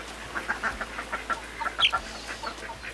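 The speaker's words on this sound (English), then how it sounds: "Then I have Polish chicken." A Polish chicken, a crested ornamental breed, clucks in a series of short, fairly close calls with one sharper squawk partway through, and no talking.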